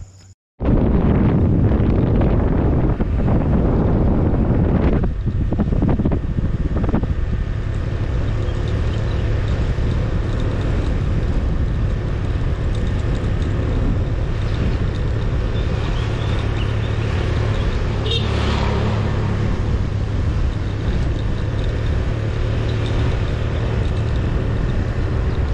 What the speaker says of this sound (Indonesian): sekarang kita naik motor lagi untuk turun ke bawah